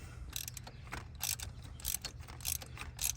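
A socket ratchet clicks in short repeated bursts while loosening an ignition coil part in a car's cylinder head during a Trailblazer ignition coil replacement, faint and close with no talking.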